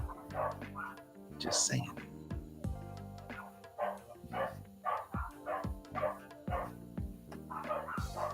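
Dogs barking and yipping indoors during a livestream, short sharp barks repeating irregularly at moderate distance, mixed with whimpers, while people talk nearby.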